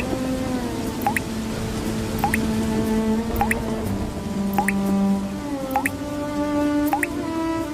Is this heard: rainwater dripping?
yes